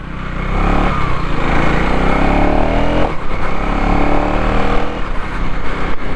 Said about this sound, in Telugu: డ్యూక్ 390 మామూలుగా ఉండదు.